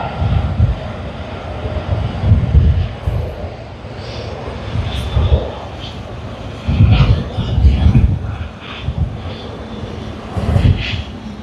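A United Airlines jet at Sydney Airport, heard as a steady broad engine roar with swelling low rumbles, fairly close and continuous through the clip, with faint background voices.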